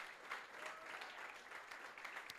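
A church congregation gives a round of applause during a worship service; faint, distant, even clapping that holds steady throughout.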